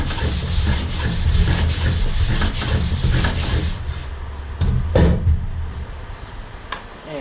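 Repeated rhythmic rubbing strokes of a Stanley sanding block working across wood, loud and close for the first few seconds, then a few isolated knocks and scrapes as the strokes stop.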